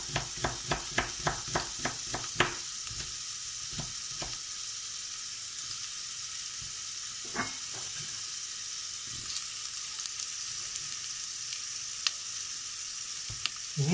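Sliced onion half-rings fry in a pot for a fish and crab soup, giving a steady soft sizzle. A run of quick stirring clicks comes early, with a few scattered knocks later.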